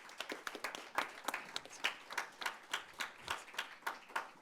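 Applause at a company lunch-and-learn talk, about four and a half seconds of steady rhythmic hand claps, fairly close and moderately loud, with no talking over it.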